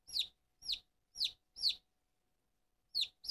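Barnevelder and Dorking chicks cheep in short, bright peeps, about six distinct calls spaced roughly half a second apart with a brief pause, close and clear over a silent background.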